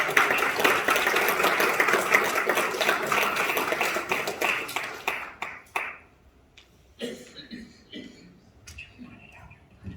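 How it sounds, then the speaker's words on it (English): Audience applause welcoming a rabbi at a Shabbat gathering, dense and sustained clapping for about five seconds before fading out into quiet room noise with scattered small sounds. "You get the applause before you say anything"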